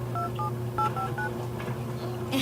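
A phone being dialed in The Sims 3, with a quick series of short electronic keypad tones over steady background game music and ambience.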